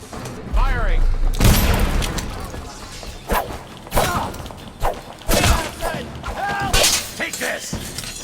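Gunfire in the stealth action game Dishonored: several sharp bursts and thuds strike across the scene amid combat noise, with a voice speaking in between.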